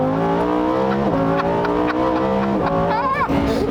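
A Lamborghini Huracán Performante engine pulls hard under acceleration, a loud, close, continuous roar whose pitch climbs and then steps down at gear changes.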